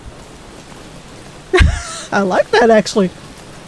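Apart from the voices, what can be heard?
rain falling in a video game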